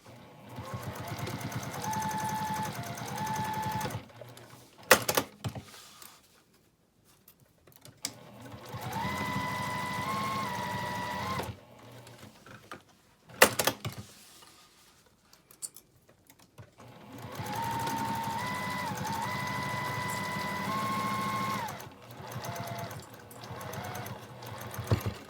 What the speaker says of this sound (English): we're sewing with a 1/4 inch seam.